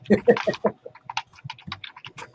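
Someone types loudly on a mechanical keyboard, a quick burst of sharp clacks that turns into an irregular stream of key hits, fairly close and prominent.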